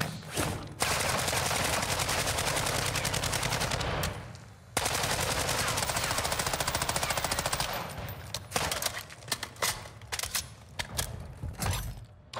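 Automated turret in Call of Duty Modern Warfare II firing long sustained bursts of rapid gunfire, a brief pause near the middle, then scattered shorter shots and clatter toward the end.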